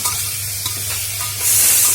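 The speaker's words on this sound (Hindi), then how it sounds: "तापरे गुड़ दबा" Jaggery meets a hot pan and sizzles loudly and close, with stirring scrapes before a sharp burst of frying hiss that holds steady to the end.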